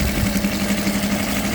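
A DIY pull-start boat engine idles out of gear, a loud, steady, close-up rumble with an even low throb and no pauses.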